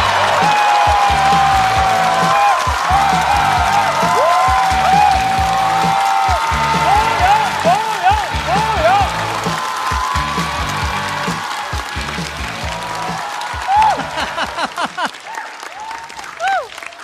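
Studio audience applauds loudly and steadily to welcome a stand-up comedian onto the stage of a comedy show, sustained clapping with some cheering that thins out toward the end under a voice.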